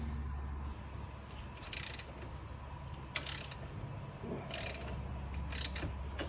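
A ratchet wrench undoes 19mm bolts on a Ferrari 308 engine during a timing belt job, giving four short, close clicking bursts spread across the clip over a steady low background hum.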